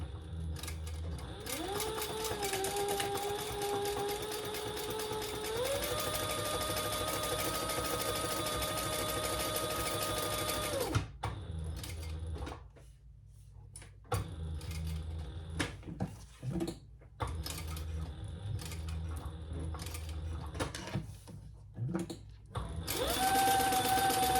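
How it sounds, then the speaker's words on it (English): Sewing machine running chain stitching on a crossbody bag, a steady whirring drone for about ten seconds, then shorter stop-and-start runs with quiet gaps between them. "I'll just do some chain stitching"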